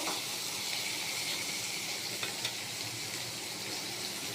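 Steady, dense sizzling of a katla fish head frying in oil in a pan, close and constant throughout, with a couple of faint clicks and no voices.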